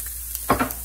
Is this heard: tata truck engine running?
no